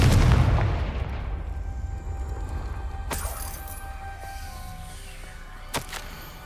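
A Confringo fire spell detonates in the Hogwarts Legacy video game: a loud, deep boom rolls and slowly decays, followed by two sharper cracks a few seconds apart.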